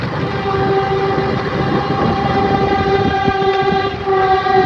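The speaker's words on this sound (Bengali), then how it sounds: "তখন ট্রেন যাচ্ছে," A passing train sounds a loud, sustained horn throughout, close by, over the heavy rumble and clatter of the rolling wagons.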